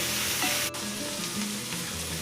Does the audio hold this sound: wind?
no